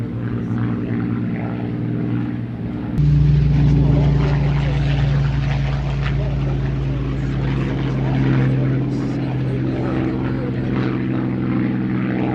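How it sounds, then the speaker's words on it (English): Two Hispano Buchon propeller aircraft roll down the runway at the Sywell Airshow 2024, their engines a continuous loud drone that swells and holds steady after a few seconds. "See these two Buchons rolling down runway 21."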